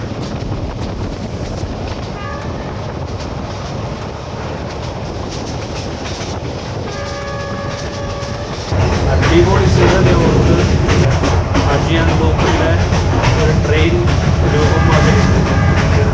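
Reunification Express train running on Vietnam's north–south railway line, a steady loud rumble of rolling wheels with clickety-clack rhythm that grows louder and rougher partway through, with brief tonal squeals near the middle.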